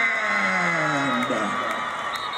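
A crowd at a high school varsity football game cheers and whoops for the Jonesboro band, a sustained roar with shouts and a voice calling out over it.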